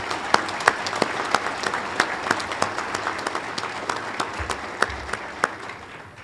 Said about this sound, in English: Let's give them a round of applause for all the hard work they put in.